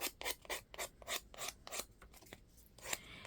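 An emery board rubs back and forth over small uneven craft parts, making a series of quiet, rhythmic rasping strokes close by, about a dozen in quick succession with brief gaps between them.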